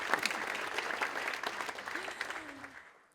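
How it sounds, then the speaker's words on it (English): A lecture audience at the annual Durrell Lecture breaks into warm, sustained applause, many hands clapping at once, loud and close, then fading away as a voice briefly speaks near the end. "I think it does deserve a round of applause."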